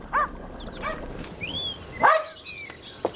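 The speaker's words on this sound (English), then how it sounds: "The dog. Why is it always barking?" A dog barks several times in short separate yaps, fairly close, with birds chirping in the background.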